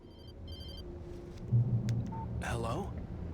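A telephone rings briefly at the start with thin electronic chirps, then goes quiet under low background hum before a voice begins speaking.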